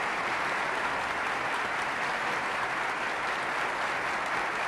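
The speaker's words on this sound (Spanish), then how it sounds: "Diputados y senadores puestos en pie, aplauden las palabras de Su Majestad el Rey" Deputies and senators on their feet in the Spanish parliament chamber applaud the King after the royal sanction of the 1978 Constitution: dense, steady clapping from a large crowd that continues evenly throughout, slightly distant.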